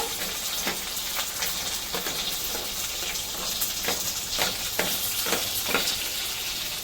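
Curry leaves, a dried red chilli and carrot fry in hot oil in a pan, giving a steady close sizzle with scattered crackles and pops, heard alone without talk.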